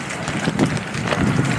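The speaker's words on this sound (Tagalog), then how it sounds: "Kusog ang hangin." Strong gusts of wind buffet the microphone outdoors on the way to a farm field, a steady broadband roar that swells and dips throughout with no clear voice on top.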